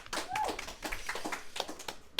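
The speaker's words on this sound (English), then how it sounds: "Round of applause, Sophie." Scattered clapping from a small group follows a youth project presentation at a gathering, sharp irregular claps spread over a couple of seconds with faint voices mixed in.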